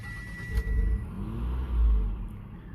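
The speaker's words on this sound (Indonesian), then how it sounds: "halus banget ya suara mesin V6 dari mobil ini" A V6 engine in a Mitsubishi Outlander hums steadily at idle, a low smooth rumble close by with slight swells, plus a faint high whine early on.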